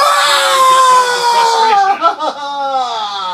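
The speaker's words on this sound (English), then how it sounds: "He screams as loud as he can." A man's loud, sustained high-pitched scream that wavers and breaks up near the end, with no other sounds around it.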